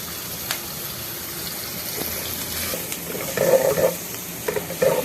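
Onions frying in a little cooking oil, with a low sizzle and stirring rising to louder bubbling, crackling bursts in the second half.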